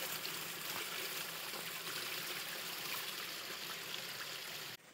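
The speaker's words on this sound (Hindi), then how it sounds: "पहाड़ों में पानी की आवाज़ से भी ऐसा मन करता है यहीं पर सो जाओ, इतनी अच्छी आवाज़ आती है" A mountain stream flowing steadily, a continuous close rush of water with no pauses, cut off abruptly near the end.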